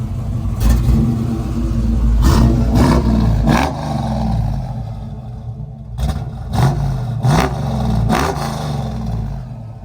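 A 1969 Chevrolet Camaro RS/SS convertible engine rumbles at a steady idle and is blipped through a series of sharp revs, three quick bursts, a lull, then four more, loud and close.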